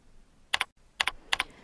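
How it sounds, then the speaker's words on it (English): Typing on a computer keyboard, three distinct pairs of quick key clicks spaced evenly, crisp and close against a quiet background. "Start typing sumatriptan in the drug lookup field."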